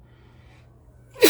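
A single sharp sneeze bursts out loudly near the end, after a second of quiet low room hum, close to the microphone.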